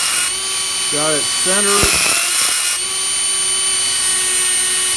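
A small Dremel rotary tool mounted on a lathe whines at a high, steady pitch while cutting a screw thread on an aluminum wheel-head bracket for a Quorn tool grinder, with a brief spoken remark partway through.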